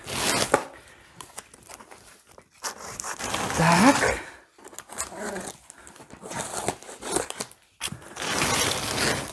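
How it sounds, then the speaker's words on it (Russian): Large cardboard box being unpacked at home with dogs nearby, irregular tearing, rustling and scraping of cardboard and packing in bursts, with brief speech. "в этот раз у нас вот большая коробка самая. Я ее вам оставила, будем вместе распаковывать."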